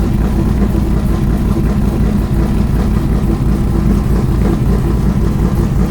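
A Roush 427 engine in an Eleanor Mustang custom build runs loud and close, a dense, throaty roar that holds steady with a constant rough burble throughout.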